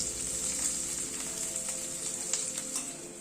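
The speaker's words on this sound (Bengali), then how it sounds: "আলুটাকে একটুখানি ভেজে নিচ্ছি আগে।" Boiled potato pieces frying in a pan, a quiet, even sizzle with occasional faint crackles, close by and with no speech.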